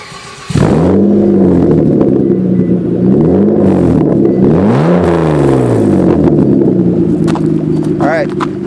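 Car engine starting and settling into a deep, throaty idle through a new Megan Racing muffler, loud and close, with a couple of swelling revs partway through and a voice briefly speaking near the end.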